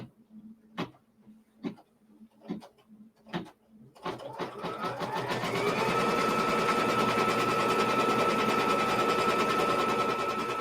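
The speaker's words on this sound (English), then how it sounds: "And now I'm going to stitch." Close, steady whirring of a sewing machine stitching a quilt block, preceded by several light taps of fabric handling, then running loud and continuous for over six seconds.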